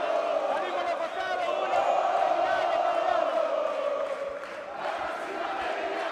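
A fight crowd at a Jose Aldo versus Emmanuel Zambrano bout yells and roars steadily, urging Aldo to attack, with a dense wall of voices that swells and dips slightly.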